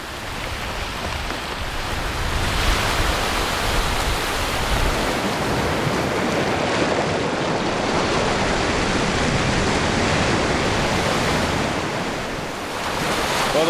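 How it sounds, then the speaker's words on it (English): Strong wind sweeps across an open lake as whitecap waves roll in and break, a dense, steady rush of surf and gusting air that fills everything with no voices. "Wind is kicking up and the lake's starting to white cap."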